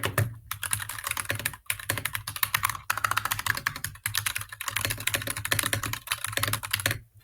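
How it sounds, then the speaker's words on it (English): Fast, continuous clacking of a mechanical keyboard being typed on up close, dense crisp keystrokes with a few brief pauses, with no voices over it. "I got my mechanics keyboard right here."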